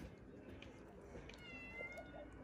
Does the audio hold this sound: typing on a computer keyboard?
no